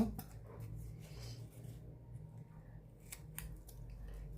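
Scissors snip quietly close by, a few soft crisp cuts spaced out over low background hum, faint and intimate.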